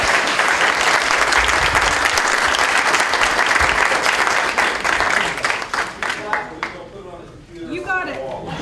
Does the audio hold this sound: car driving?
no